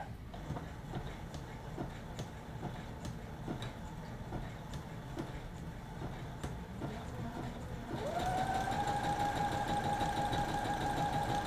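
A sewing machine runs a long, large stitch along a dress in steady ticking pulses, then its motor rises into a louder, continuous whir near the end.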